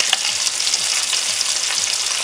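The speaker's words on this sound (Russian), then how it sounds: "Пока наша малоротая корюшка там поджаривается до румяного состояния" Small smelt fish fry in a pan with a loud, even, crackling sizzle that carries on without a break, and no one talks.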